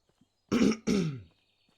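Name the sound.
throat clearing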